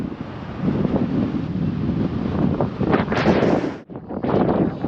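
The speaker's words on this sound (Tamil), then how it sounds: "நல்லா காற்று பார்த்தீங்கன்னா பயங்கரமாக அடிச்சுட்டு இருக்கு காற்று" Strong sea wind roars and buffets the microphone nonstop at Kanyakumari, a heavy rushing gust broken by one brief lull before it surges again.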